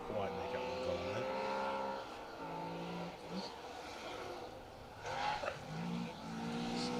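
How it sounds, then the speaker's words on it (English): A Triumph TR7 V8 rally car driven hard on a forest stage at a rally, its engine roaring and revving continuously with tyre noise, fairly close; a commentator talks over it. "Sounds like the TR7 V8 pushing hard."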